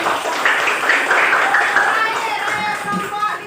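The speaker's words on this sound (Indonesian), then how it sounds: "Iya, tepuk tangan." A class of eighth-grade students claps together in a classroom, producing a short burst of close, lively applause with voices and chatter mixed in.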